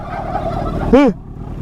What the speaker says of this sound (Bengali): এই দেখো এর ভেতরে সব টার্কি